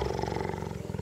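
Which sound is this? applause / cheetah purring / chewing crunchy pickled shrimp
cheetah purring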